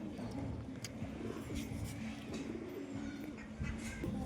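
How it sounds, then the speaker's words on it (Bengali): Large pigeons coo in low, repeated murmurs amid a busy outdoor background, with faint chirps and distant traffic; the birds sound moderately close and no one speaks. "তো কত বড় পায়রা দেখতে পাচ্ছ বন্ধুরা"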